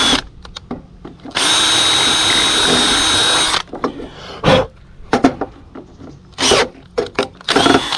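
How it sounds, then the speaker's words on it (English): A power drill enlarges a hole for boat trailer guide posts in one loud, steady whir of about two seconds. Scattered clanks and handling knocks come before and after it. "Need to step up the drill hole size a little bit."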